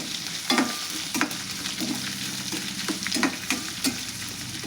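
Onions frying in oil for a dosa chutney, a steady close sizzle with irregular scraping stirs of a spatula, alone with no talk.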